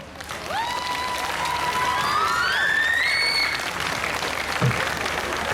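A large crowd at a volleyball team presentation claps and cheers continuously, with whistles and a rising, warbling siren-like call sounding over the applause.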